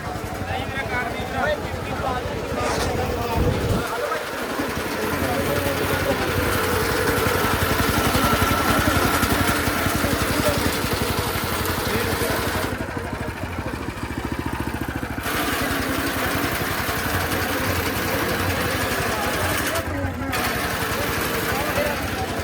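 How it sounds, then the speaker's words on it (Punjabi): A mini reaper cutter for cutting berseem fodder runs at the Kisan Mela farm fair in Rajpura, 2024. Its engine drones steadily and fairly close for the whole stretch, with people talking over it. "ਆਹ ਕਟਰ ਆ ਗਿਆ ਆ ਮਿੰਨੀ ਰੀਪਰ"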